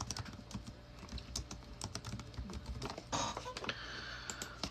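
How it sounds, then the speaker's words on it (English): Quiet, rapid clicking of keys on a computer keyboard, irregular taps with short bursts and pauses, heard close but faint in a room with no speech. "If I could type. I can't type at all,"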